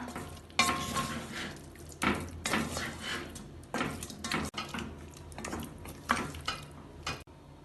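Chicken biryani masala being stirred in a pot after yogurt is added, with repeated wet scraping and clanking strokes of a spoon against the pot, close and moderately loud, with no talking.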